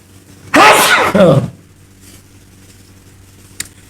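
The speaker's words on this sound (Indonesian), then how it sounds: "bersin." A person gives one loud, close sneeze in two bursts, followed by quiet room tone with a small click near the end.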